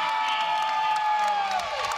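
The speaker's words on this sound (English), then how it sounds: "Crowd's happy about that. To the raucous applause of the crowd." Spectators at a high school basketball game cheer and applaud in a dense, sustained roar that fills the whole gym, steady and loud throughout.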